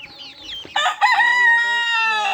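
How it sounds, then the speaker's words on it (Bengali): Golden chickens on a home farm: a rooster crows loudly and close in a long drawn-out call, preceded by scattered clucks and squawks. "মুরগিগুলো বেশ বড় হয়ে গেছে সোনালি মুরগিগুলো ফার্মে মোরগ"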